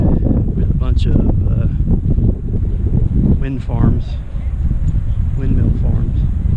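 Steady wind buffeting the microphone on a flat, open West Texas road, a loud continuous low roar with gusty swells throughout, with voices talking over it.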